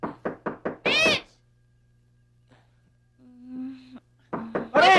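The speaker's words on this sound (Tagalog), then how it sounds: "May kumakatok yata." Knocking on a wooden door in a Tagalog drama: a quick run of four raps, then a pause, then another burst of knocks, with people shouting between the knocks.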